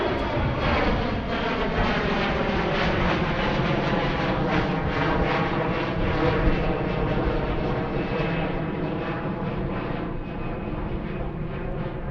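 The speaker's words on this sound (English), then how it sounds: "There goes Air Canada." An Air Canada airliner passes at Philadelphia International Airport during reverse operations, its broad, steady engine roar loud and sustained for the whole stretch, fading slightly toward the end.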